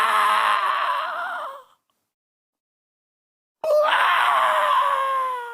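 A preacher lets out two long, loud screams imitating a cry of pain, each held for over a second with a silent gap between them, alone without other speech.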